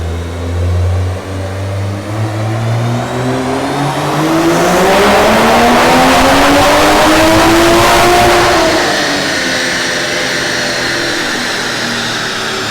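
A 2020 Toyota Supra with an added exhaust makes a loud, close dyno power run, its engine rising steadily in pitch through the gears to a roaring peak before backing off and settling to a lower drone.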